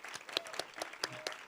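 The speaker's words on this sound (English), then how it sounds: "a quick round of applause for our first two guests." A brief, fairly faint round of applause from an arcade festival crowd greets two guests, with individual claps popping out of a soft, busy patter.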